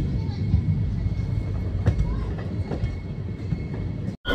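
The 13431 Balurghat Express rumbles along the track between stations, heard from inside a coach as a loud, steady low roar with faint clicks of the wheels. A person talks over it.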